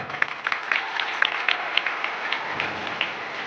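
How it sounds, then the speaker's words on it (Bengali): Audience clapping at a Teacher's Day celebration as an award is presented: fairly faint, scattered applause with uneven individual claps, heard at a distance. "একটু জোরে হাততালি কোথায়"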